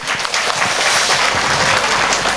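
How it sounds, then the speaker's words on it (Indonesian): Audience at an Indonesian comedic religious sermon (pengajian) applauds, a steady dense wash of clapping sustained across the whole stretch, loud and close with no talk over it. "Tepuk tangan dulu dong."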